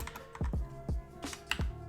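Typing a World Edit command on a computer keyboard: a short run of about eight distinct key clacks at an uneven pace, close and clear, with no talking.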